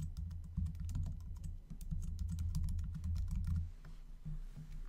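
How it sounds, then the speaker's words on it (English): Rapid keystrokes on a computer keyboard, a steady run of close clicks entering an account ID and forwarder name in shipping software, alone over a low background hum with no talking. "Type in the account ID and the forwarder name."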